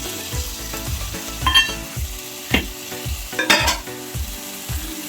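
Banana flower biryani masala fries in a pan with ginger and garlic, a spatula scraping and stirring in quick regular strokes about twice a second over a steady close sizzle, with no voices.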